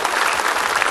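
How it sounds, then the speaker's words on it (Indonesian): A studio audience applauding for a guest on an Islamic television talk show, a dense, steady burst of clapping heard close and alone for about a second. "Tepuk tangan Bu Ustadz Maulana"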